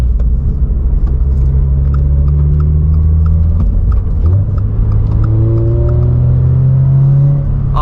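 A 2022 Subaru BRZ fitted with an MST cold air intake revs hard nearby, its loud engine rumble climbing and falling in pitch through repeated pulls.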